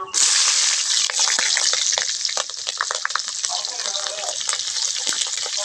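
Loud, close frying in hot oil while making a sea prawn and wild pumpkin gravy with round chilies: a dense hiss with constant crackles and pops throughout.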